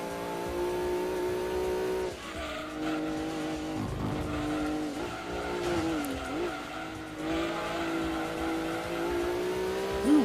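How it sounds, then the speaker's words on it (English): A Subaru Impreza Wagon spinning its tires in Gran Turismo 2, a steady engine drone with rising revs and a tire squeal near the middle, continuous and fairly loud. "Ooh, we're spinning those tires."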